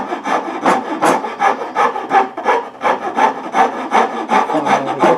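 A file rasps back and forth across a wooden leg being shaped, giving loud, close, rhythmic scraping strokes, roughly two or three per second, with no talking.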